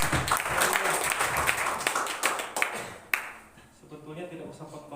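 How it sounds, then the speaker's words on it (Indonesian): Clapping and applause from a congregation at a church worship service, brisk and uneven with sharp individual claps, fading partway through as voices and music carry on underneath. "Tepuk tangan lagi yuk, paling banyak."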